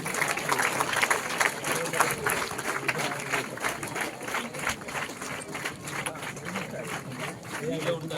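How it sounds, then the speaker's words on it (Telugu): An audience at a police awareness event claps together: dense, sustained applause that goes on throughout, moderately loud and fairly close, with voices mixed in underneath. "అందరు క్లాప్స్ కొట్టండి."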